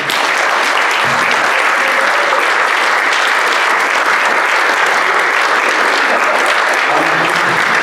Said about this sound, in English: please stand so we can give you a big round of applause